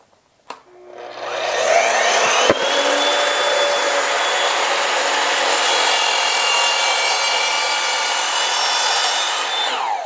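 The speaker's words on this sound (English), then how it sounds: "And there is a 45-degree bevel cut into an old piece of pallet wood" An Evolution sliding miter saw spins up with a sharp whine, then cuts a 45-degree bevel through old pallet wood with a loud, sustained grinding rasp that holds steady for several seconds, close by.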